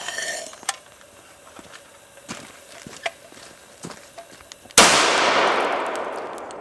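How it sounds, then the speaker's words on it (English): A single sharp, loud blast from an airsoft WWII German stick grenade bursts out near the end after a stretch of quiet small clicks and knocks, then its broadband roar slowly fades. "That was an absolutely beautiful explosion, very loud"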